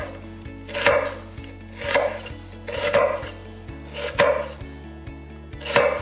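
A knife slicing through a peeled onion on a cutting board, five evenly spaced crisp cuts, each with a brief scrape, close and clear with no talking.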